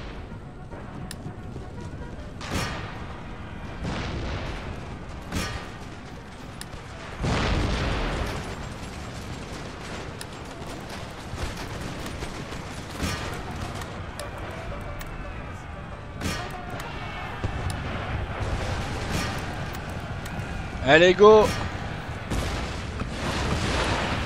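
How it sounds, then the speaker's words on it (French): Cannon artillery in an Empire: Total War battle booms repeatedly amid a noisy battlefield din, with one heavier blast near the middle and a cluster late on, while someone talks excitedly over the fighting. "les canons là, stop! Vous avez buté ma propre cavalerie!"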